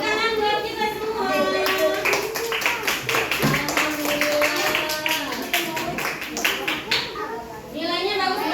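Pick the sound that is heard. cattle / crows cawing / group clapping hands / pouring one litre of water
group clapping hands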